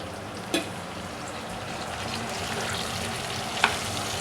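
Vegetables fry in a covered pan with water cooking off, a steady soft sizzle that runs evenly throughout, broken by two faint clinks from stirring.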